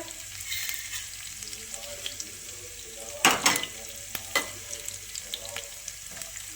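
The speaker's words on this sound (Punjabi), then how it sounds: "ਤੇ ਪਿਆਜ਼ਾਂ ਨੂੰ ਵੀ ਆਪਾਂ ਚੰਗੀ ਤਰ੍ਹਾਂ ਭੁੰਨ ਲਾਂਗੇ ਜੀ" Onions frying in a pan with green chili and garlic give a steady close sizzle, broken by a few louder scraping stirs of the spoon midway, with no one speaking.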